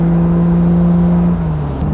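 A 1953 Aston Martin DB2 Vantage Drophead Coupé, fully restored and with its high-output Vantage engine, pulls steadily under way, giving a close, constant low engine drone that dips slightly in pitch near the end, with no talk.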